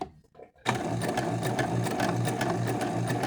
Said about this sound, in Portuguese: E aí, aqui eu vou costurar, ó.